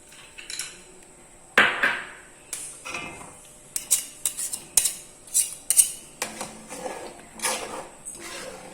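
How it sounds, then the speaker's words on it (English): Spatula scraping and clinking against a metal pan while mixing kesar malai kulfi mixture, a series of irregular knocks and scrapes in a quick rhythm, close and alone. "Let's now mix it very well with the spatula."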